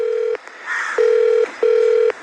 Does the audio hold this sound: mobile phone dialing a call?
yes